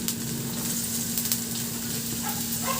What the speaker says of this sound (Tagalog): Sa kawali, magpainit na rin ako ng mantika at igisa ko na yung luya.